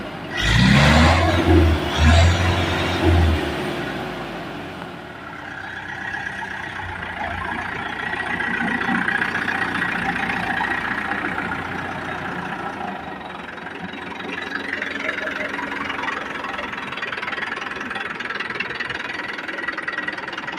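A TAFE Gajraj tractor with a four-cylinder engine and power steering idles steadily and loudly close by, a rumbling mid-low drone that runs without break for the whole stretch.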